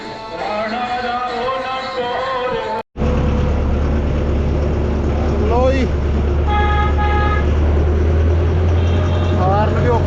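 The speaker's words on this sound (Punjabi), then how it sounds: "ਹਾਰਨ ਥੋੜਾ ਜਿਹਾ ਘੱਟ" A tractor horn sounds in short toots over a steady engine rumble, with a brief cut partway through and honks recurring later.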